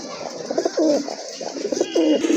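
Indian Bombay pigeons, a large crested breed, cooing up close in repeated throaty rolling calls with short pauses between phrases, loud and clear with no talk.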